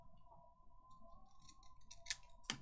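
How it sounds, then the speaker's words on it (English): Scissors snipping through paper during a craft session, two sharp, brief cuts close together near the end, standing out over a quiet room with a steady faint hum. "Can go there, and I'll cut it to there."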